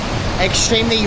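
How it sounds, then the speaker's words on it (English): Rushing waterfall swollen by heavy rainfall on the Antrim coast, a dense continuous roar partly covered by a person talking nearby. "directly in front of us is the waterfall."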